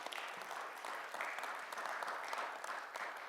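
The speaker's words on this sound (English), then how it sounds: "Can we all give Treasurer Sabri a round of applause?" A room at an evening community meeting about property assessments gives the treasurer a round of applause, steady even clapping from a modest crowd, faint and somewhat distant.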